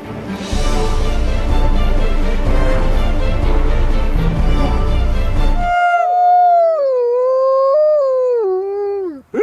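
Several wolfdogs howl together, first a dense, loud chorus of overlapping voices, then one or two long, wavering howls rising and falling on their own.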